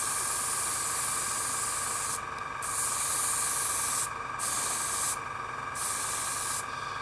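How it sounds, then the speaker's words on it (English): An aerosol can hisses in several sustained bursts with short pauses between, spraying a Deathwing miniature to strip its paint, loud and close with no talking. "So I'll just spray this one so you can see."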